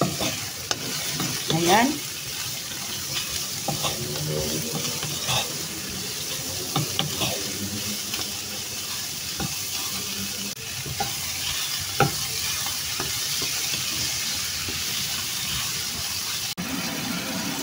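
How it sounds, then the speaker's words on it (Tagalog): Sautéed mung beans with jackfruit and pork are stirred in a sizzling pan, with scraping spoon strokes and bubbling over a steady fry. A brief word is spoken at the start. "Haluluin na natin."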